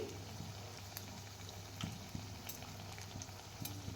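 Biri bara batter fries in hot oil, a soft continuous bubbling sizzle with faint intermittent pops, steady and fairly quiet throughout.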